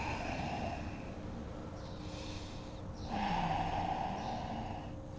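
Steady nasal breaths during a strong yoga flow class, a long exhale swelling then easing and a second forceful exhale rising after a pause, close and alone without talk.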